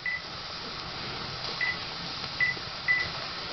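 A few short electronic beeps from the timer buttons of a pressure cooker cooking brisket, three quick tones spaced over a couple of seconds above a faint steady room hiss, with no talk.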